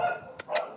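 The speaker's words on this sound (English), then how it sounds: "That's my dog, sorry guys." A pet dog barks indoors, two short sharp barks close to the microphone with a brief gap between them, standing out over a quiet room.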